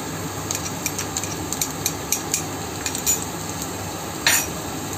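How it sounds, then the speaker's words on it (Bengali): Chopped garlic and ginger sizzle softly in a pan for a Bengali keema dish while a spatula stirs and scrapes at irregular intervals, with a few sharper clinks near the end. "রসুন কুচিটা দিয়ে একটু নাড়াচাড়া করে নেবো আমি।"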